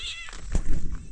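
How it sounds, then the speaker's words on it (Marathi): A single drawn-out cat meow, close and fairly loud, over a noisy outdoor background, as drongo birds chase the cat. "काही कोतवाल पक्षी मांजराच्या मागे लागलाय"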